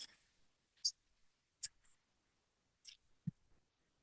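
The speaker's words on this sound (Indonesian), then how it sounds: "kita akan mengetik netstat" Keys being pressed on a computer keyboard while a network command is entered, giving a few sharp, sparse clicks spread unevenly with quiet gaps between them, fairly close and faint.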